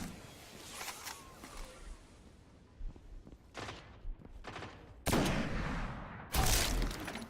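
Bursts of gunfire from a shooter video game: scattered single shots early on, then two loud, dense volleys near the end, heard close and without talk.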